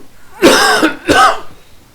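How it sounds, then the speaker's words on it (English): Two harsh coughs in quick succession, close and loud, with a short pause between them. "I'm having a bit of coughing fit"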